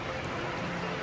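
Steady rain pours down on a Himalayan mountain trek near Tungnath temple on the Chopta route, a dense continuous hiss with no pauses, close and fairly loud throughout.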